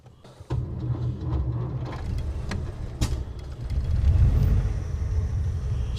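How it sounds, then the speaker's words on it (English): A pre-war Rolls-Royce engine is cold-started with a foot-operated starter solenoid on a weak mixture. A sudden rumble begins, a single small sharp backfire pops, then a low, steady idle builds and grows louder. "Straight away, I heard a little backfire, a little tiny, probably because of the amount of petrol."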